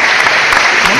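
Podcast hosts on a Knicks show clapping for Scott Perry, a short loud burst of hand claps filling the whole second with voices mixed in.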